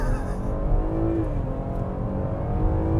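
A 2020 Chevy Blazer RS launches hard from a standstill. Its engine gives a loud, close roar that climbs in pitch as it accelerates, sustained throughout the short burst.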